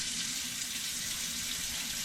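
Kitchen tap running steadily into a sink during cooking, a constant, even hiss of flowing water, close and moderately loud with no talk.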